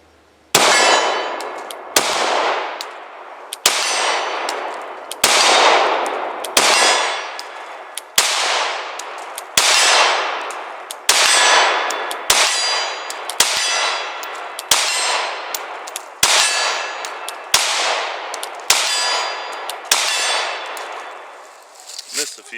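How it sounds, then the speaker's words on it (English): A CZ P10C pistol loaded with a 15-round magazine fires slow, evenly spaced shots at 25 yards, about a dozen sharp reports roughly every one and a half seconds, each ringing out with a long echoing tail. "I'm just going to do some slow fire, just kind of demonstrating how the gun handles"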